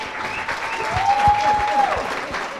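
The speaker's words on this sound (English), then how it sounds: "Let's give him an amazing," A live audience at a talk-show style event gives a round of applause, a continuous, steady wash of clapping with a faint tone running through the middle.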